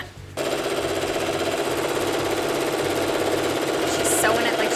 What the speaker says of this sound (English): She's like power sewing.